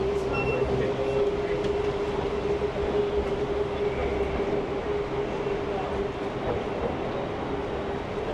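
A train rolling along the rails at a station, a steady loud rumble with a sustained hum running throughout, close and continuous, with some background chatter.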